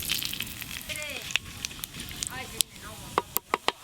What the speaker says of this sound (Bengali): মেথি চিকেন রান্নার জন্য গোটা জিরে আর তেজপাতা ফোড়নে দেব।